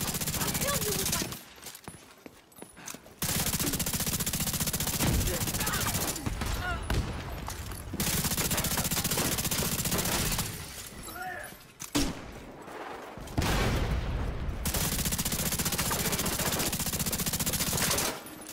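Automatic gunfire in The Division 2 video game, heard as long, loud, sustained bursts of rapid shots separated by short pauses, with voices speaking over the shooting.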